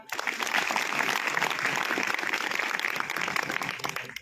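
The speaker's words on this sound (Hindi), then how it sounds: "निर्मा के लिए तालियां।" Audience applause at a public speaking event, a broad, fairly faint and steady roar of clapping from a crowd that runs throughout, with no talking over it.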